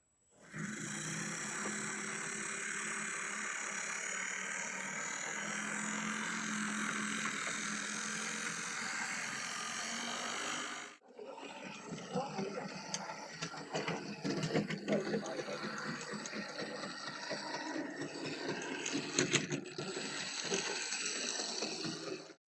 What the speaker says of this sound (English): This one's a bit noisy, but there's a working LED on it.